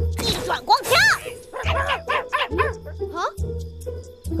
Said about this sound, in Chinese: 不能让狗狗干扰到阿基米德